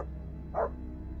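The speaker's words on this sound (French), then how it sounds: "J'ai entendu mon chien aboyer fort comme jamais." A dog gives one short, sharp bark at night against an otherwise quiet, low background hum.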